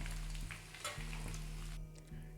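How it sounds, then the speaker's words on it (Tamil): Anchovies deep-frying in hot oil until crisp for a cowpea curry, giving a steady close sizzle and bubbling with faint clinks of stirring throughout, no voices. "இது நல்லா முருகலாக பொரித்து எடுத்து வச்சுக்கலாம் ஃப்ரெண்ட்ஸ்"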